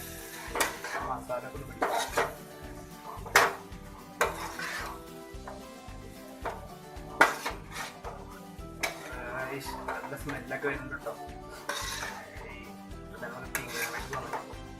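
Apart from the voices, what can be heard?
stirring tapioca and egg masala in a pan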